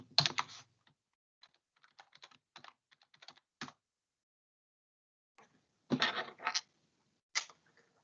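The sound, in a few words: typing on a computer keyboard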